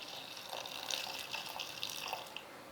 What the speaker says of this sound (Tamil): பெரிய கிளாஸ்க்கு 1 கிளாஸ் தண்ணி ஊற்றிருக்கேன்